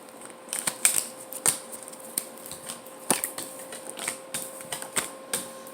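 Oracle cards being shuffled by hand: a string of crisp papery snaps and flutters in uneven bursts, close and fairly quiet, with no voices.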